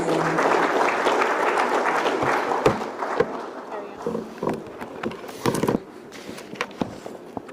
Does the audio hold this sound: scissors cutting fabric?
no